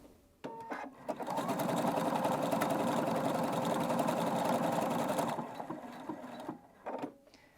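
A Husqvarna Viking Brilliance 75Q sewing machine stitching at a steady fast pace for about four seconds, a continuous close whirring buzz that starts and stops cleanly, with faint handling clicks around it.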